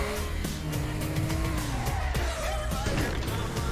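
Game car drifting in Teardown, its engine droning loudly while tires squeal and skid through the whole stretch, with bumps and clatter of the vehicle mixed in.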